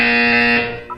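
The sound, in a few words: buzzer in video game Portal 2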